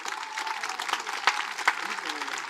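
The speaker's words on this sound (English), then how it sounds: "a round of applause for our freshman class" Applause from the crowd at a high school football game during a homecoming-style class introduction, a steady wash of distant clapping with a couple of sharper claps and voices faintly mixed in.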